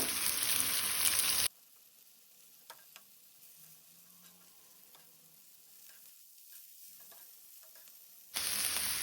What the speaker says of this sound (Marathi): भेंड्याच्यो फोडी आतां परतून घेवया।